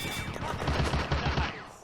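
Rapid bursts of automatic gunfire crackle from the Eastern Front wartime video game Firefight, a fast rattling volley lasting under two seconds with no voices.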